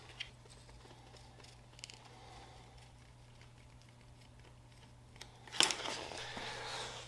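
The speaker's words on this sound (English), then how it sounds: "get some scissors and round your corners" Scissors snip through vinyl ride wrap while its corners are rounded, a quiet close cutting session with faint clicks followed by a louder sharp snip and rustle near the end.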